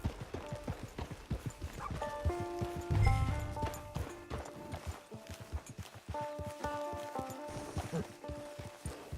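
Horse hooves clip-clop in Red Dead Redemption 2, a steady walking rhythm of repeated hoof strikes near and fairly loud, mixed with game music tones and a brief low rumble.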